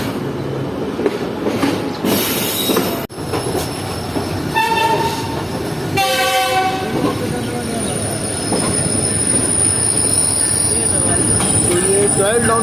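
Train noise on platform 2 at a station as the Hazara Express comes through with a GU40 locomotive: continuous rolling rumble and clatter, a high squealing tone near the start, then screeching wheels and a shrill horn, with faint talk under it.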